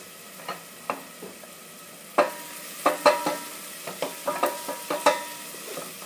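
Onion cooks in a pan over low heat, a soft sizzle under a spoon or spatula stirring and scraping in irregular clicks and knocks, close and fairly quiet, with no talking.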